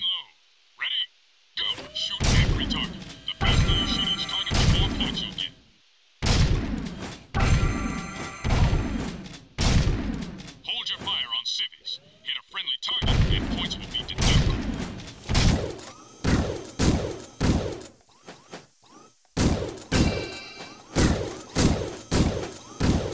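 Gunfire in Jak 2 HD smashes Crimson Guard crates in sharp, heavy bursts with impacts and breaking thuds, some clustered and some spaced apart. Game effects sound around the shots, and a person talks between them.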